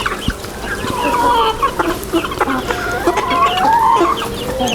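Farm chickens cluck steadily and close, with overlapping calls throughout and no speech.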